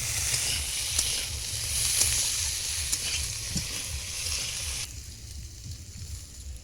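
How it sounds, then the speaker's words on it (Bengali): Taro pieces frying in hot oil in a pan, a close steady hiss and sizzle with occasional stir scrapes, dropping to a quieter sizzle partway through, no speech. "এক মিনিট আমি কচুটাকে ভালো করে ভেজে নিয়েছি"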